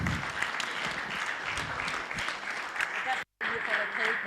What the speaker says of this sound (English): Give us a big, big, big applause